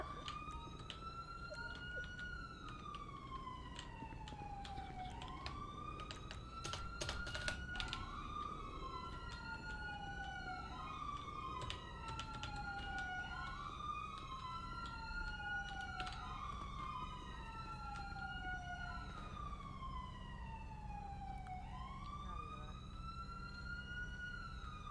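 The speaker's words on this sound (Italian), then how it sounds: "sirene insopportabili" Police sirens in the GTA V video game wail continuously, several overlapping rising and falling tones cycling steadily, fairly loud, with no talk.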